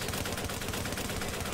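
Dense gunfire from The Division survival mode on PS4, a steady loud rattle of shots filling the whole moment with no talk over it.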